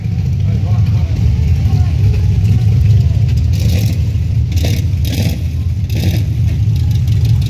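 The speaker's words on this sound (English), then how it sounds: "There's Mac's truck." A mud truck sits after the night's mud runs at a 2015 fair, its engine a loud, close, steady low rumble with a few surging bursts and background voices.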